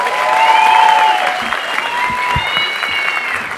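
Live comedy show audience applauding loudly and steadily for about three and a half seconds, with cheering voices and whistles riding over the dense clapping.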